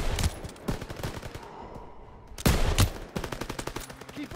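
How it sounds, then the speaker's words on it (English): Machine guns fire in rapid bursts during a Call of Duty: WWII battle, with dense rattling volleys, a brief lull, then a loud renewed burst of sustained automatic fire. "MGs, open fire!"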